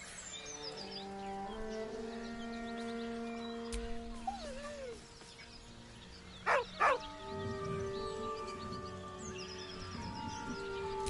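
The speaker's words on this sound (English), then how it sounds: "With a deep, heartbroken whine, the dog bows his head." A dog whines in a heartbroken way, with a couple of rising and falling whimpers and brief yelps heard over a steady bed of soft background music.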